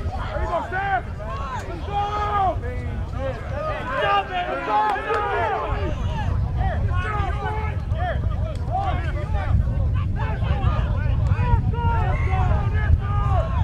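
Wind rushes steadily across an outdoor playing field during a match, a constant low roar beneath near, continuous talking voices.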